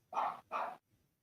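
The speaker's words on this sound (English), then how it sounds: "Them dogs are going crazy over something." A dog gives two quick, fairly faint barks in succession, followed by quiet.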